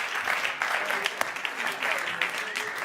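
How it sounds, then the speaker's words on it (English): An audience at a conjuring keynote applauds steadily, a full continuous patter of many hands with occasional sharper claps standing out close by. "Give them a round of applause."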